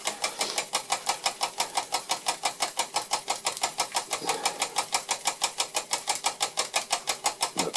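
A small single-cylinder engine runs steadily with a rhythmic knock from the pulley shaft, an even, rapid thumping pulse repeating without pause, close and fairly loud.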